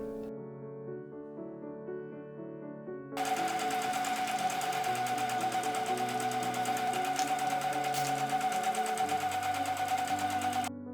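A sewing machine joins denim scrap pieces for a tote bag, running in one steady, continuous whir for most of the span after a quieter opening with soft background music.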